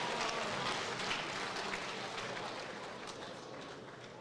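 Applause and crowd noise fill an arena after a six-round boxing bout, a steady wash of clapping that holds at an even level from start to finish with no talk over it.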